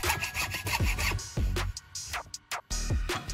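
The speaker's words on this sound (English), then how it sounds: "the wood began to open slightly along the saw line, and I simply continued cutting through until it split completely" Hand saw cutting through a piece of wood until it splits: rapid rhythmic rasping strokes, close and fairly loud, slowing near the end with a few scrapes and a final stroke.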